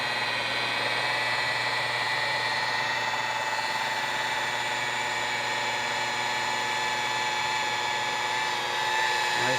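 A buffing machine runs steadily while compounding and polishing the hull of a black boat, holding a continuous high whine from start to finish with a person talking over it.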